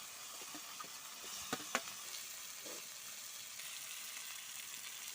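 Fried potatoes drop into spice masala frying in a pan, giving a low, soft sizzle with a few brief knocks and scrapes of the pan partway through; quiet and close, no talking.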